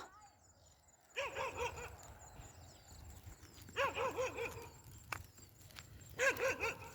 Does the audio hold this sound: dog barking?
yes